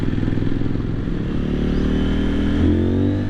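A CFMoto 800NK motorcycle engine pulls hard under acceleration, a loud, close, steady roar with a rising gear-driven whine and some rattle, no voices over it.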